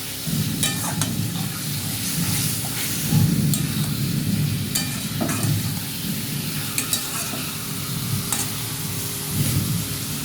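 Marinated chicken goes into a hot pan of well-fried spices for a chicken curry, frying with a steady close sizzle while a spatula scrapes and stirs in irregular bursts, loud and free of speech.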